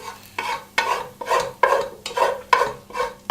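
Softened onions and bacon cooking in a pan for macaroni cheese, stirred with a utensil: a rhythmic series of about eight swishing scrapes over a light sizzle, close by, with no talking.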